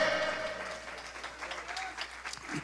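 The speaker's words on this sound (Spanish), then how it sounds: "Denle un aplauso al Señor por la experiencia de la fe" Congregation in a church clapping for the Lord during a sermon, a scattered, moderately distant round of applause that rises and thins unevenly, with a low steady hum running beneath it.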